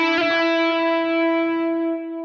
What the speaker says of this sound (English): This is reverb spread for the camera.